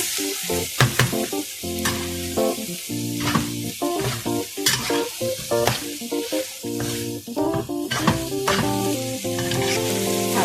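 Frog is stir-fried pad cha style in a pan, with loud, steady sizzling and frying broken by repeated scraping and stirring clatter from a utensil, heard close and with no talking.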